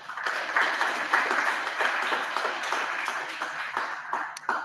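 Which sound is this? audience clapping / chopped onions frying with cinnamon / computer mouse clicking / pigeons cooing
audience clapping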